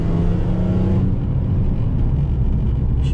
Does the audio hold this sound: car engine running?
yes